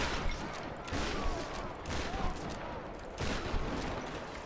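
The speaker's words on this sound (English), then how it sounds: "Now to fight. I like the shotgun." Shotgun blasts and other weapon fire in a Tomb Raider combat scene, loud repeated bursts in an irregular rhythm over a dense, continuous background of battle noise.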